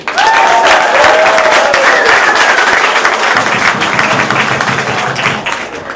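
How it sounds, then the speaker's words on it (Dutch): A large audience at a youth carnival prince election in Indegat gives loud, sustained applause for parents and grandparents, a dense wall of clapping with some crowd noise and a faint tonal sound early on. "En ook zou ik graag willen dat jullie een enorm applaus geven"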